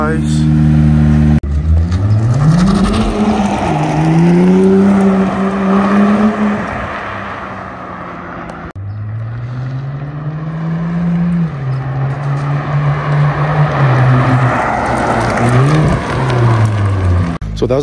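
A stock-exhaust Acura NSX drives past twice, its engine note rising and falling as it nears and recedes, loud and close with steady road roar between passes.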